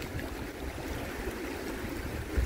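Cold running water at Causey Reservoir in northern Utah, a steady broadband rush and trickle with low rumbling, continuous and fairly close throughout, with no voices.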